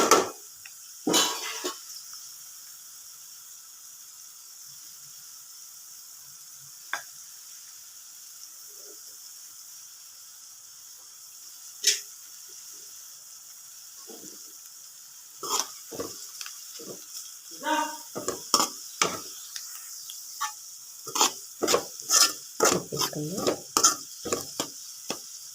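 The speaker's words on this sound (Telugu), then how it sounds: "ఒకసారి తిప్పేసుకొని పసుపు, అల్లం పేస్ట్ వేసుకుందామండి." Onions frying in a pan and stirred with turmeric and ginger paste for an egg and tamarind-leaf curry, a low steady sizzle broken by clustered scrapes and clinks of a utensil on the pan that grow busier toward the end.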